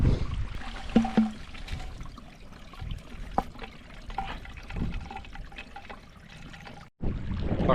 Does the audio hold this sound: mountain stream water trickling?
yes